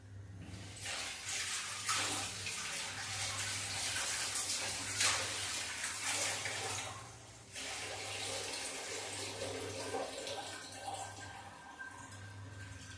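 Water runs steadily from a tap into a vessel for several seconds, with a brief pause midway, close by and fairly quiet.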